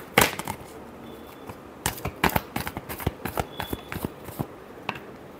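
Tarot cards are shuffled by hand in a series of crisp, close riffles and slaps, irregular bursts of papery snapping with short pauses between them.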